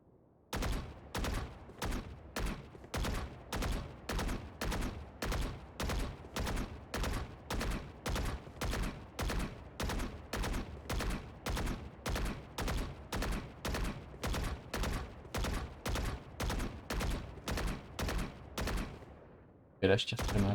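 Video game gunfire rattles in a long, steady series of evenly spaced shots, about two per second, loud and close, continuing for nearly twenty seconds before stopping.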